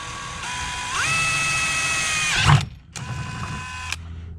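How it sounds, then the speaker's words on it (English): A power drill bores into a kayak hull. It makes a steady whining drone that shifts in pitch, stops abruptly, then starts again for a shorter second burst. "this is always the scary part, is drilling into your kayak"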